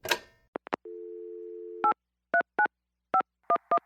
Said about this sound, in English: here's his latest voicemail message